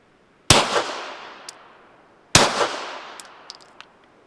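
Two suppressed gunshots from a Dead Air Odessa-9 fired into dirt, each a sharp loud crack with a decaying ring, spaced about two seconds apart, followed by small clinks.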